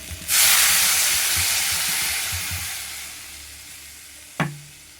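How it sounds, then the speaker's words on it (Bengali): Water splashes into well-fried spices in a hot pan for a catfish curry, bursting into a loud hiss that slowly fades over several seconds, followed by one short clatter near the end. "মশলা দিয়ে ভালো করে ভাজা হয়ে গেছে কষানো হয়ে গেছে এবার জল দিয়ে দিই"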